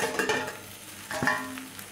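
Chana masala frying in a pan and being stirred, with soft sizzling and a few scraping spoon strokes near the start and again midway, close and without speech.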